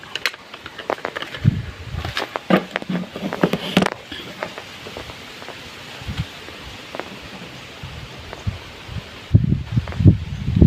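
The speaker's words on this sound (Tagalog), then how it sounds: "Mahangin." Gusty wind at an outdoor barbecue rustles and buffets the microphone in uneven bursts, with faint pattering and handling noise between the louder gusts.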